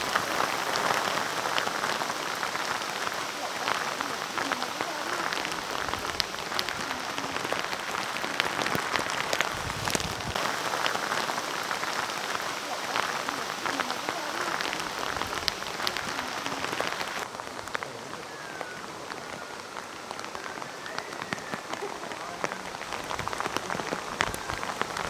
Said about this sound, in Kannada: ಮಳೆಯ ಸದ್ದು